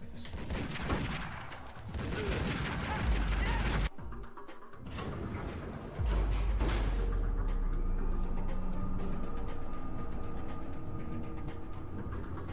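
Enemy gunfire erupts in Tomb Raider: Legend, dense bursts of shots and impacts crackling loudly, pausing briefly before a second heavy volley resumes and fades into lighter clatter.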